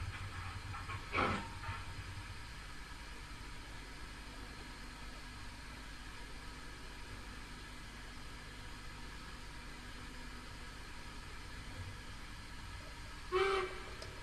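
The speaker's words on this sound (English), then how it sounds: "This is a very big locomotive. It only just fits on my turntable." A very big model railway locomotive sits on a layout turntable, giving a steady low motor hum and faint hiss throughout, broken by two brief sharp clicks, with no talking.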